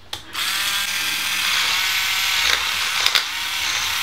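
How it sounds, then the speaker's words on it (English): A Roto Clipper powered nail file whirs with a steady high-pitched electric buzz, close and loud, starting after a short click and holding constant with a couple of brief catches near the end. "Power button down for the file."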